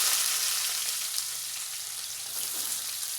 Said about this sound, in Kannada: ಈಗ ನೀರುಳ್ಳಿ ಕರಿಬೇವು ಹಾಕ್ತಾಯಿದ್ದೀನಿ